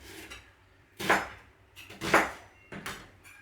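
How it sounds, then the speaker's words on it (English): A spoon smacks cubed onions frying in a pan, three sharp metallic knocks about a second apart, close and clear over quiet background. "you just smack them with the back of a spoon on the top"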